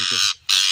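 Two loud, harsh squawks from a young parrot, close up, separated by a brief gap.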